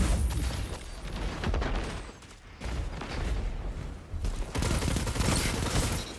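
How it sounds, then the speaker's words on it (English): Rapid gunfire from the enemy team in a Destiny 2 Crucible match crackles in dense, overlapping bursts that swell and dip, loudest near the end. "We're getting a little bit too close to the enemy team shots."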